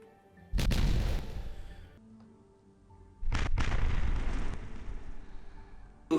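Two dynamite blasts go off in a video game, each a loud, close rumbling boom lasting over a second, separated by a quieter pause, with a faint third burst starting right at the end.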